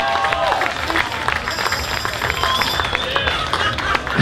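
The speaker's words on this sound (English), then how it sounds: "I'll give this girl back here a big round of applause for playing drums." Audience applause and cheering for a girl drummer at a live funk cover band show at Bayside Miami, a dense steady wash of clapping and crowd noise, with whistles and shouts rising through the middle.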